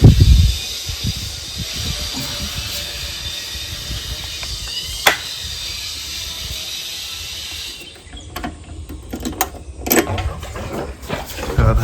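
A steady water pump motor drawing from a borewell hums and hisses continuously, then shifts tone and becomes rougher with clunks and rattles toward the end.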